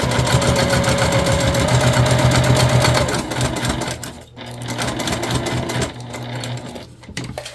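A sewing machine basts across the side of a tote bag, running in a loud, steady mechanical buzz for about three seconds, then slowing into shorter, intermittent bursts of stitching with brief pauses.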